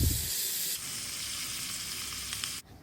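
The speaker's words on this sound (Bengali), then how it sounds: "তারপর দেব 2টো কাঁচা লঙ্কা দিয়ে ভালো করে ভেজে নেব।" Chopped tomato with dried and green chillies frying in hot oil, a loud continuous sizzle that softens briefly after a stir and cuts off near the end.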